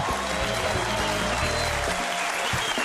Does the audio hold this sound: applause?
yes